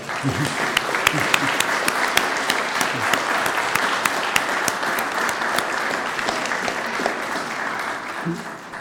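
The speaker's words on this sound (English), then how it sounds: "let's have one final round of applause for our excellent presenters today" A symposium audience gives presenters a final round of applause, a dense, steady patter of many hands clapping for several seconds at even volume, with a few sharper claps standing out and faint voices near the end.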